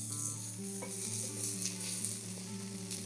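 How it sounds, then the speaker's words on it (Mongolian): Turmeric and spices frying in a pan for a vegan dish, a steady close sizzle with stirring scrapes and a faint tonal hum beneath, no voices. "За одоо энийг гоё ингээ бор болтлон гоё шарж агаад."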